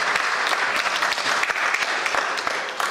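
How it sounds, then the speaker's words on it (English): Audience applause at the businessLine Agri & Commodity Summit 2024, sustained, fairly loud clapping from a large hall crowd with distinct individual claps rising and falling slightly over a few seconds. "give a round of applause so that we can energize the whole"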